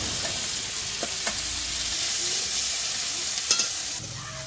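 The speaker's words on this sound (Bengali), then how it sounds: "দেখুন এখানে পেঁয়াজ রসুনটা ভাজা হয়ে গেছে" Crushed onions and lightly browned garlic fry in a hot pan with a steady, dense, close sizzle throughout, broken by a few faint stirring clicks and no voices.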